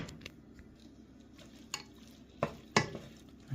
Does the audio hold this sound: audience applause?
no